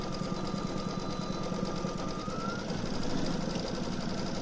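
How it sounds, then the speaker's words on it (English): Brother Stellaire embroidery machine stitching an outline around a pocket design, a steady, loud mechanical whirring drone with rapid needle chatter running continuously throughout, no talk. "So now it's just going to stitch around the pocket design"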